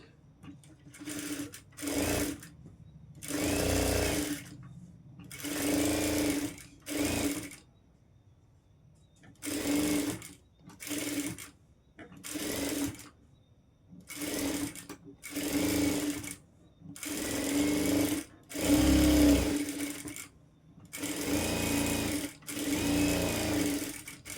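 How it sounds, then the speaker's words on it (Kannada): Sewing machine stitching a princess-cut designer blouse, its motor whirring loudly in repeated bursts of a second or two separated by brief quiet pauses, close up. "ಈ ರೀತಿ ಆಪೋಸಿಟಲ್ಲಿ ಇಟ್ಕೊಂಡು ಸ್ಟಿಚ್ ಮಾಡಬೇಕಾಗತ್ತೆ"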